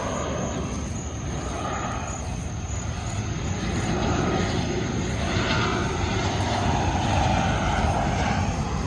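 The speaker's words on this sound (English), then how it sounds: "there is an airport just across the street, so you will be hearing airplanes into the evening." Fixed-wing airplanes from an airport across the street pass over a beach campground at Myrtle Beach State Park, a steady broad engine roar that swells slightly midway and holds over wind and surf-like noise, with no talking.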